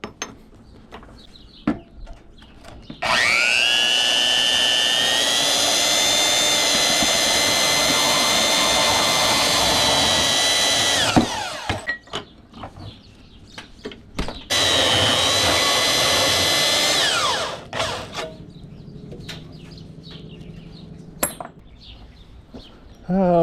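A loud power tool cuts through copper and brass scrap pipe in two long sustained bursts, a steady high whining grind of about eight seconds and then a shorter three-second cut, with clanks and handling noises between and after.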